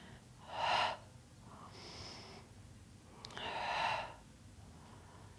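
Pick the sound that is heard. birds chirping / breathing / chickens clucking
breathing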